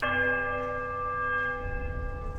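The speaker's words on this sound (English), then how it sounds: "I'll hit the right bell again." A deep bell in the video game Pillars of Eternity rings out with a long, sustained resonant tone that slowly fades, ending in a low rumble.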